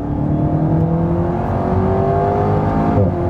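The mid-mounted 1.8-litre turbo engine of an Alpine A110S drones steadily as the car accelerates, pitch climbing smoothly through the revs from inside the cabin, loud and continuous.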